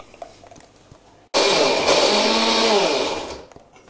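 A blender roars to life and blitzes chopped onions into a curry paste for a hot chicken curry. It runs loud and steady for about two seconds after a quiet start, then cuts off.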